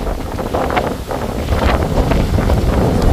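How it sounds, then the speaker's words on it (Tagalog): Strong wind outdoors in Australia buffets the microphone, a loud continuous roaring rumble with gusty swells that grows slightly stronger partway through, with no talking over it. "Ba't ang lakas ng hangin?"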